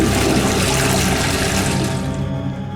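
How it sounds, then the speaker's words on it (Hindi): A toilet flushing loudly and close, a continuous rush of water that holds steady and tapers slightly at the end. "नहीं सर, वो मैंने टॉयलेट में फ्लश कर दिए थे।"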